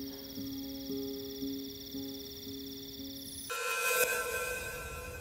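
A telephone rings in a steady repeating pattern, then the ringing cuts off abruptly and is replaced by a brighter burst of noise.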